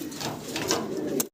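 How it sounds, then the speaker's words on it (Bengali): A pair of Maltese pigeons at a pigeon farm give a soft, low, throaty coo that carries steadily, close by, for just over a second before breaking off abruptly. "একজোড়া মাল্টেজ কবুতর"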